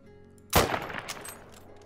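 A single Mosin Nagant rifle shot fired at long range in the hunting game Call of the Wild, one sharp loud crack with a brief fading tail, standing alone without talk.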